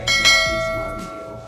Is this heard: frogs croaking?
no